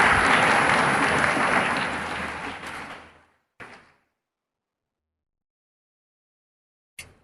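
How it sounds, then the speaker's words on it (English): Applause from an audience in a parliament hall, a dense roar of clapping that fades out over about three seconds, followed by a brief trailing patter and then silence with a faint click at the end. "A big round of applause for Nandini Yadav."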